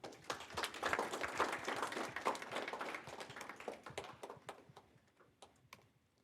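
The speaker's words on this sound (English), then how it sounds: "clap it up for our sponsors" An audience claps for event sponsors, a fairly faint burst of applause that is dense at first, then thins into a few scattered claps and fades out.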